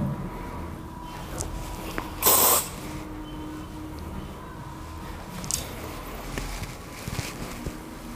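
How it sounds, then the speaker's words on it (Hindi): Hair spray hisses in one short, close burst onto styled curls during a girls' hairstyling session, with faint later puffs against a quiet room background. "और हेयर स्प्रे करना है।"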